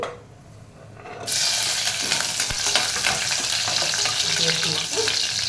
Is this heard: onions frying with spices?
yes